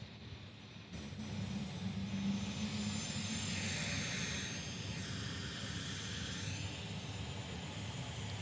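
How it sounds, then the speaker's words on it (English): A Dassault Falcon 50 tri-jet passes with its engines giving a steady, loud roar. The pitch sweeps slowly as it moves by, and no talk is heard over it. "This is a Falcon 50."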